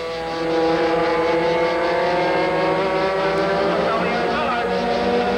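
Piston-port sprint karts race at speed around a track during a 1989 championship. Their engines make a loud, sustained droning whine that swells and fades as they pass, with no talk heard over it.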